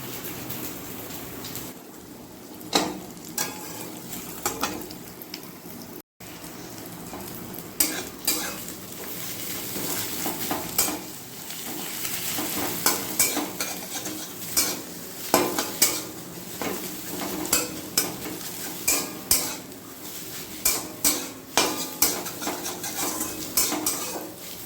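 Food frying in a pan while being stirred, a continuous close sizzle broken by frequent metallic scrapes and clinks of a utensil against the pan, with no talking.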